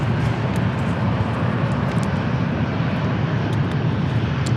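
An airliner takes off at San Diego International Airport, a loud, steady, broad engine roar that holds without a break.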